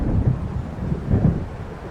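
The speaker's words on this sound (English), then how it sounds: "It seems there's a storm coming." Distant thunder from a thunderstorm in the Alan Wake video game, a low, continuous rumble that swells in two broad rolls over the short stretch, moderately loud with no voices.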